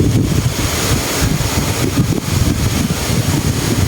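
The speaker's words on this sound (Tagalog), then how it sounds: "Napakahangin dito sa bukid ngayon mga kaangas." Strong wind gusts across an open farm field, a steady loud rumbling roar buffeting the microphone for the whole stretch, with no voices.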